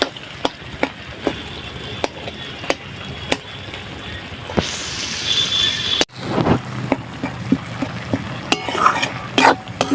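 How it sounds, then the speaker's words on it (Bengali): Shrimp and cabbage masala with sugar sautéing in oil in a pan, spices frying until the oil separates: a steady sizzle broken by repeated sharp scrapes and knocks of a spatula stirring, close and fairly loud. "সুন্দরভাবে কষে নিয়েছি। দেখুন একদম মশলা থেকে আমার তেলটা ছেড়ে দিয়েছে।"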